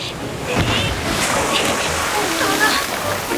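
Ocean waves surge and wash in a steady, broad rush, with wind buffeting around them, in an animated sci-fi series scene at the sea.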